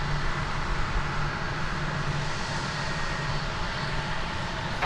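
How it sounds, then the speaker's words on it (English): An American Airlines Airbus A320, Flight 452 to Tulsa, at DFW Airport: loud, steady jet engine roar close by, unbroken for the whole stretch. "we say hello to the flight deck on American Flight 452. That's going to Tulsa, Oklahoma, an Airbus A320."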